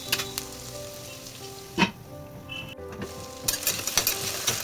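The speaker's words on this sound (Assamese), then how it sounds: "অলপ ব্ৰাউন কৰি ভাজিব লাগিব পিঁয়াজখিনি" Chopped onion and small-cut potato fry with cumin in a pan, a steady close sizzle with occasional stirring scrapes and clinks and no voices.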